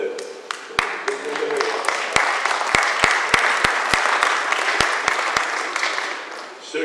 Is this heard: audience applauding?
yes